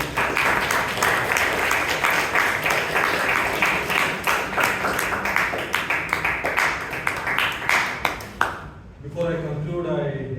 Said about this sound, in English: Let us give a big round of applause to